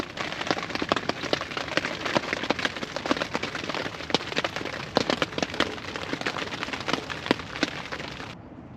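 Steady rain patters and splashes on a surface nearby, with scattered louder drips cracking through the continuous hiss, no voices.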